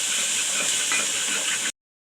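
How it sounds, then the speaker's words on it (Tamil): Tomato and onions sauté in a hot pan with a loud, dense sizzling hiss, steady and close, that cuts off abruptly. "இதையும் சேர்த்து நல்லா வதக்கிக்கலாம்."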